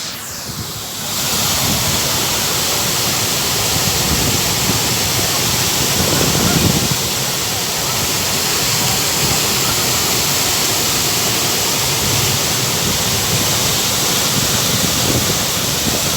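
Çiseli waterfall in Ordu roars as a loud, continuous wash of falling water, broad and steady throughout with a windy rush and no talking.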